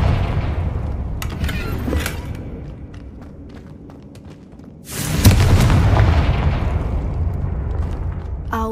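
A Confringo blasting spell explodes in Hogwarts Legacy: a sudden, loud booming burst after a quieter stretch of faint thuds, followed by a sustained rumbling roar.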